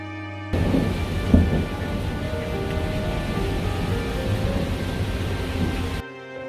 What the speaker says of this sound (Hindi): मैं तूफान लाता हूँ।